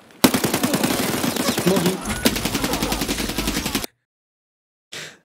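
Rapid automatic gunfire crackles in a tense Escape from Tarkov firefight, a loud, sustained burst of evenly spaced shots that cuts off abruptly, followed by silence and a brief spoken word.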